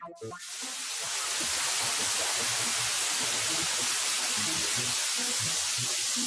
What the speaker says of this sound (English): You're going to hear the white noise test.